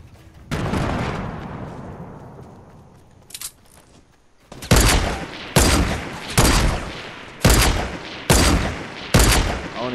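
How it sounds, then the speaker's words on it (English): Gunshots ring out in a squad-based shooter video game: a loud blast with a long decaying tail, then a steady series of sharp, powerful shots at regular intervals, close and loud, with no talking. "I hear the shots, but I don't see him, though."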